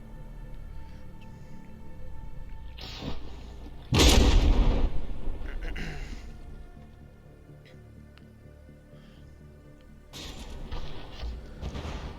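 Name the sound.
battleship cannons firing in From the Depths video game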